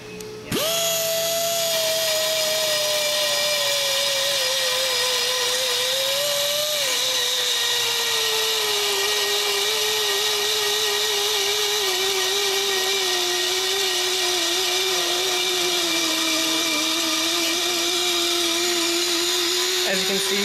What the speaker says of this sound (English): And then we'll start coming in here, and we'll grind slowly